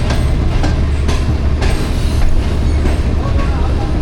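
The Pak Business Express train rolls in at Multan Cantt station, a loud steady rumble of cars and wheels with faint clacks, close and continuous.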